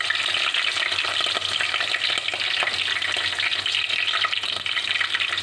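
Green chilies sizzle and fry in hot oil in a pan for egg pulusu, a loud continuous crackling hiss with occasional stirring scrapes.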